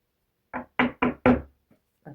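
Four quick, close knocks in a row, followed after a short pause by one more soft tap, each a sharp dull thud against a quiet background.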